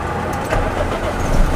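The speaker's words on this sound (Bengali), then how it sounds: "আঙ্কেল ইতিমধ্যে গাড়িটা স্টার্ট দিয়ে দিয়েছেন। আপনারা হয়তো গাড়িটার ইঞ্জিন সাউন্ড শুনতে পাচ্ছেন।" A Toyota X Corolla engine runs close by, a loud steady low rumble with a slight rise in revs toward the end, and no voices.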